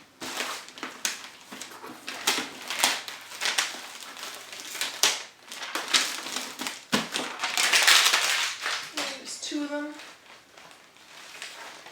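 Strong adhesive shipping tape is peeled halfway off a package, giving crackly ripping and crinkling bursts mixed with handling noise at close range, ending in a short tonal squeak.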